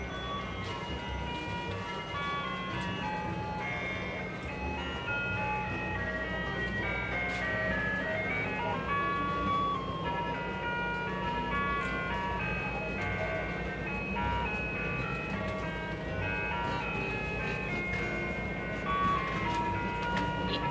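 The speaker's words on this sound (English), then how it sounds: "This fucking ice cream truck is gonna be here this whole time." An ice cream truck's tinny melodic jingle plays continuously in the background outdoors during an extreme heatwave, repeating its tune at moderate distance under steady ambient hum.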